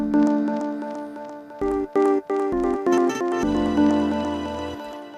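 Layered musical samples stutter in a short choppy glitch of rapid cut-off bursts before a sustained pad swells in beneath them, all loud and close with no voices.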